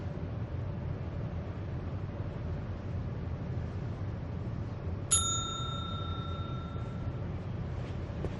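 Bell in the adventure game Secret Files 2: Puritas Cordis gives a single bright, ringing ding that trails off over about two seconds, heard against a steady soft hiss with no talk.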